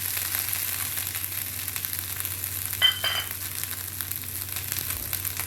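Grated coconut sautéing in hot oil in a pan for a Kolhapuri-style amti masala, giving a steady close sizzle and crackle with a brief stir scrape midway, no voices.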